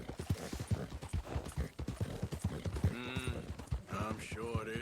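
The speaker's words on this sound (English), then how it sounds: "I'm just trying to get my horse to follow me." Horse hooves clip-clop in a steady rhythm while a rider leads the animal in the Western game Red Dead Redemption 2, with music and tonal game sounds layered over the beats.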